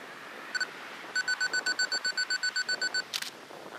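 A camera's self-timer beeps during landscape photography on a windy lakeshore, two quick beeps then a steady run of about a dozen evenly spaced high beeps, close and clear over rushing wind with no one talking.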